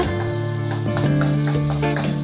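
Shallots, curry leaves and dried chillies sizzle in a pan with a dense, continuous crackle and a few brief stirring scrapes. A steady hum sits underneath, and there is no talking.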